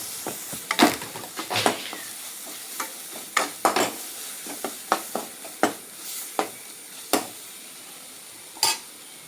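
A spoon scrapes and stirs in a pan as red chili powder is mixed into idli Manchurian, a series of distinct close scraping strokes over a faint sizzle, spaced irregularly.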